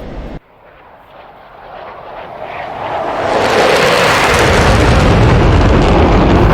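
An F-16C Viper jet roars past in a DCS World flyby, rising from a distant rumble to a loud, sustained engine blast that fills the last few seconds.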